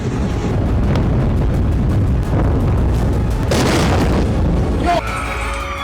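Continuous heavy rumbling booms and blasts from Iranian missile strikes on Israeli cities roll on for several seconds, loud and dense, with a sharp crack near the end before a lower din.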